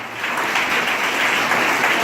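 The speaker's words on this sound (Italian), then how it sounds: "è stata bravissima, un applauso" Audience applause at an Italian art exhibition with photographers and sculptors present, a steady dense clapping that is close and sustained throughout.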